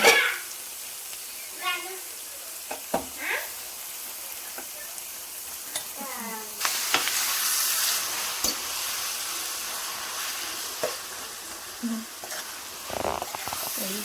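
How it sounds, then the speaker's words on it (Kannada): Greens (bassale/spinach-type leaves) fry in a pan with a soft continuous sizzle and occasional stirring scrapes, fairly quiet, with brief voice fragments in the background. "ಇದು ಚೆನ್ನಾಗಿ ಫ್ರೈ ಆಯಿತು"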